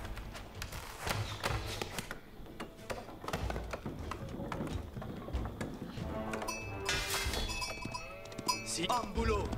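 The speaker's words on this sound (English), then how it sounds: "We got some sheep here that we want to take." Sheep bleat in the Age of Empires 4 strategy game during a French campaign mission, short calls rising over a busy mix of clattering game effects, music and battle noise with some voices.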